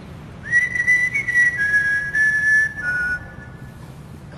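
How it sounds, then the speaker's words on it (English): Someone whistles a thin, wavering tone above a table in a quiet room, several sustained notes with short breaks, clear and fairly close, ending in a brief rising chirp, with no speech. "Please make the whistling louder so we can all hear it."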